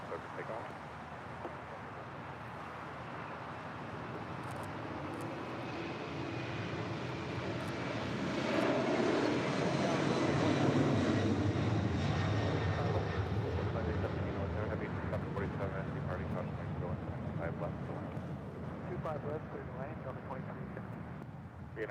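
A Lufthansa heavy airliner taking off from runway 25 left at LAX, its jet engine roar swelling to a loud broad peak midway and staying strong as it climbs out, with a radio voice heard over it.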